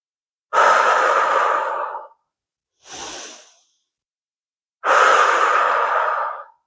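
Three deep, drawn-out breaths during a beginner yoga flow for leg strength and balance: two long, loud inhales of about one and a half seconds each, with a brief softer breath between them, all close and with no one talking.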